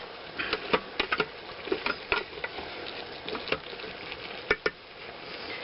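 A soup pot with morels and clams sautéing in a soft steady sizzle, with potatoes and liquid added, broken by a series of light clacks and splashes, close and moderately quiet.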